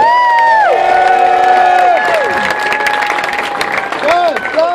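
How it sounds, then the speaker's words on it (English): An audience at a tech competition prize ceremony claps and cheers for the commanders, with whoops and crowd noise, while a loud, tonal sound sweeps up and down over the clapping. "All right, one more time, big round of applause for your commanders."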